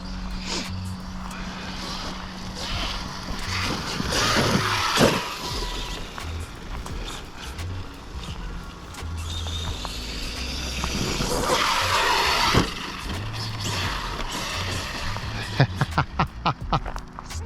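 An Arrma Outcast 8S RC car drives hard, its electric motor whining up and down while the tires squeal and skid across the surface. Sharp knocks and clatters at the end. A voice is briefly heard in the background.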